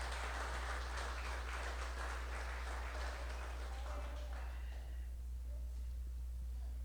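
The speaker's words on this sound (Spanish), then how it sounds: "¿Alguien le puede dar un aplauso al Señor?" A church congregation applauds during a Spanish-language sermon, a dense, steady wash of clapping that fills the space for about four seconds before fading out.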